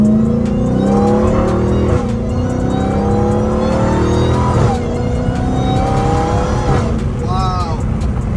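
A Dodge Challenger Hellcat Redeye with a new cold air intake accelerates hard through the gears, its engine roar overlaid by a loud rising supercharger whine, heard from inside the car.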